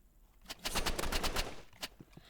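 Video game gunfire from a player shooting downward: a rapid burst of about eight automatic shots, then a few scattered single shots, moderately loud and close with no talk.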